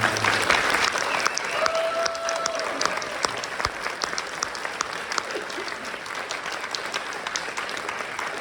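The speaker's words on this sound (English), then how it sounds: "one more round of applause for the jazz band" Steady applause from a concert audience for a jazz band at a school spring concert, dense clapping held evenly at full strength for the whole stretch with no talk over it.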